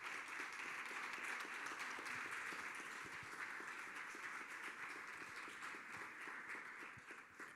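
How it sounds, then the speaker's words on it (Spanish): An audience applauds at a round-table panel discussion, a sustained wash of many hands clapping at moderate distance that holds steady and tapers slightly toward the end. "Así que un aplauso."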